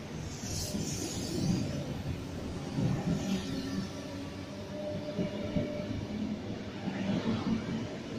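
Sydney suburban C set electric train pulling out of platform 2 at Padstow station at evening peak, a steady rumble of wheels and motors with occasional squeals, close and continuous, no voices.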